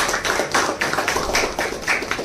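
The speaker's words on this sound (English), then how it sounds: "I'm sure you all be happy to give him a round of applause." An audience claps for an author at a book event, a steady round of applause running throughout, fairly close and dense with no voices over it.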